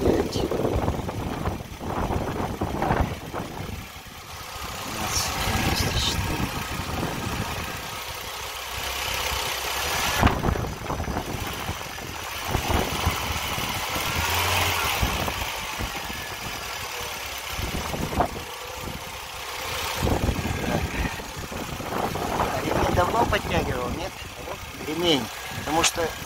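A car engine idles and then revs during a charging system check, a running engine heard under frequent talking, with the pitch and loudness rising and falling over the stretch.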